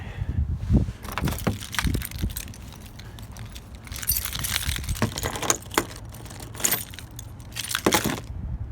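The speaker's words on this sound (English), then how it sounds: "I use my keys to push down on this to get it out." Metal keys jangle and clink in bursts while being pressed against the release tab of a wiper blade on a 2008 Saturn Aura, close and fairly loud, with scraping and plastic clicks between.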